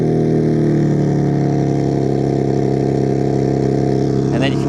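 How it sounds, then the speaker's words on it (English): The twin-turbo engine of a 2026 BMW M2 runs after a remote start, a loud, steady low rumble from the quad-tip exhaust that holds evenly, with a brief voice breaking in at the very end. "This does have remote start, so let's take a listen."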